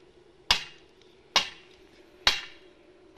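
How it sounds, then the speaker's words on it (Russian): A welded steel angle being hammered into the ground as a grounding rod for a house: three sharp metallic strikes about one second apart, close and ringing briefly, with no talk. "Берем этот кое-как сваренный уголок, забиваем."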